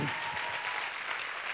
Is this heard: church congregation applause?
yes